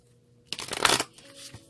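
A deck of tarot cards is shuffled in one quick riffling burst of about half a second, close and crisp, with no talking.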